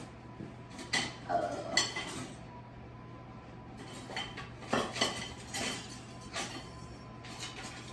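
Kitchen utensils and cutlery clink and rattle against pots and pans in irregular bursts while someone rummages for a spatula, close by and fairly faint, with a low steady hum beneath.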